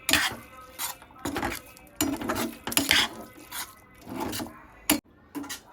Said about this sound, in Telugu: ఇలా బాగా అయితే మిక్స్ చేసేసుకోవాలి